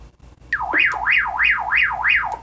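A ham radio handheld sounds an alarm tone from a held call button: a loud, close electronic siren sweeping up and down in steady cycles, about five rises and falls in two seconds, alone without talk.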